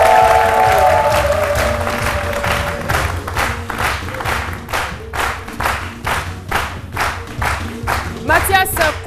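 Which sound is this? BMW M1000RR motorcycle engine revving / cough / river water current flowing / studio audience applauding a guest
studio audience applauding a guest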